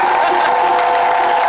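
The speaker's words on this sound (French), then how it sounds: "Des cris de joie, des cris de joie, des cris de joie, des applaudissements." A dense crowd roars with cheering and clapping, loud and continuous with no pause.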